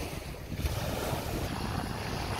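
Waves wash against the shore of Lake Garda near Riva del Garda on a February day, a steady close rush of water blended with heavy wind buffeting the microphone.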